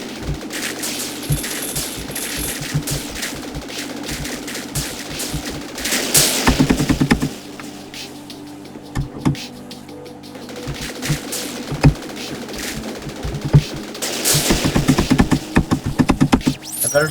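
Upgraded multi-shot weapon firing in the video game Viricide, rapid bursts of synthetic shots crackling over a steady game soundtrack, heaviest around the middle and near the end, with no talking.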